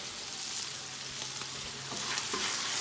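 Onions fry in a pan for Thai chicken noodles, a quiet, steady sizzle with faint scraping as they're nudged around, close up and continuous without talk.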